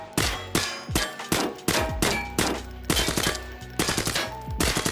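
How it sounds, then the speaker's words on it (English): A gun in Arena Breakout Infinite fires in rapid loud bursts, sharp close shots with metallic ringing clangs between them, continuing in fast rhythmic volleys throughout. "look at this initial recoil, dude. It's like shooting a pistol"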